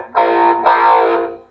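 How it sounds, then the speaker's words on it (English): Two loud, sustained distorted electric guitar chords ring out through a Fender amp with a phaser, the second struck right after the first, buzzing with gritty overdrive. "Get a little distortion on the amp."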